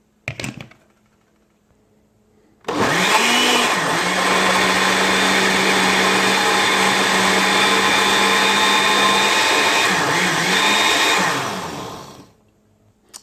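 Blender whirring through beet, carrot and ginger for juice, switching on after a short pause and running loud and steady for about nine seconds before winding down.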